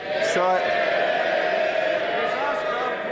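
Members of Parliament raise a dense, steady roar of cheering and calls across the House of Commons chamber, a continuous crowd swell with a few whoops rising above it.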